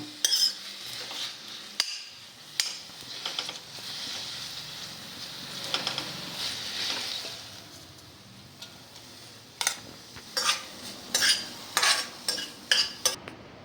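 Fresh coriander leaves frying and being stirred in a pan, with scattered metal clinks of a spoon against the pan and a soft, steady sizzle in the middle stretch, close by with no talk.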